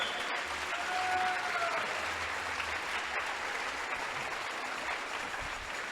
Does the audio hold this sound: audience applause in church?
yes